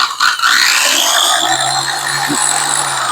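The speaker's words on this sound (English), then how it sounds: "when we squeeze the trigger right up here on the handle to engage the sanding head" An electric drywall sander with vacuum dust collection whirs steadily and loudly with a high-pitched motor whine after a brief start-up, running continuously without talk.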